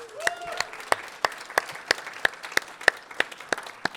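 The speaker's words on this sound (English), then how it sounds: "could I get a round of applause for Sandra and Mariano?" A live audience applauds for two people at a concert, a steady wash of clapping with sharp individual claps standing out near the front, sustained for several seconds.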